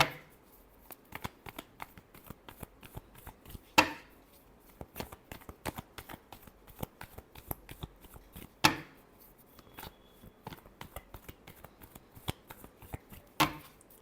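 Tarot cards are shuffled by hand in a steady, close riffling patter for about fourteen seconds, with sharper snaps where the deck is squared or split, no voice over it.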